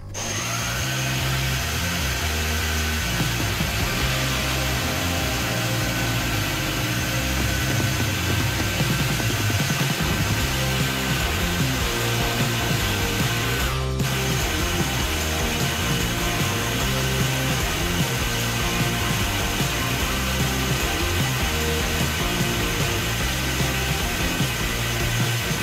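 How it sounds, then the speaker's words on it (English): A 2mm end mill on a mini mill cutting a flat-bottomed hole, giving a steady motor whine and grinding hum that runs continuously at moderate level with no talk. "use 2mm end mill to get flat bottom of hole"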